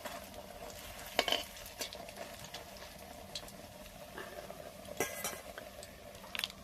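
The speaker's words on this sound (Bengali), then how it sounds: "বেগুনি ভাজছি" Eggplant fritters (beguni) fry in oil over a clay stove, a soft steady sizzle under a few sharp clinks and scrapes as a utensil stirs them in the pan.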